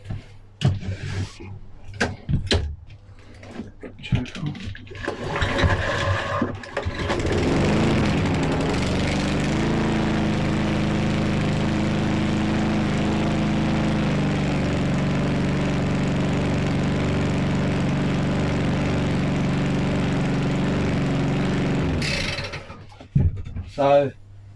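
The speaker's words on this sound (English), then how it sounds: "So this mower is it's ready to go now. So I'll just show you it running." A repaired walk-behind lawn mower engine started in a shed, running steadily and loudly for about fifteen seconds with a droning hum, preceded by handling noises and a brief voice, then cutting off near the end.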